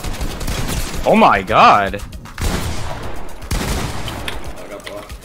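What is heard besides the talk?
gunfire in Fortnite box fight, video game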